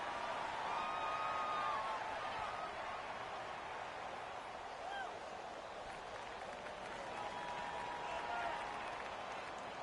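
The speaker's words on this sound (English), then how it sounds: "Listen to this crowd now." A stadium crowd in a football video game roars steadily as a late two-point conversion approaches, with sustained broadband cheering and faint tonal chant-like swells throughout, while a commentator's voice sits under the noise.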